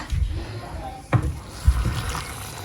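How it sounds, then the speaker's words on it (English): Hot water is poured into a pot of ewedu soup made with okra and spinach, giving short splashing, gurgling bursts under a person talking in a home kitchen. "Then I'll put some hot water"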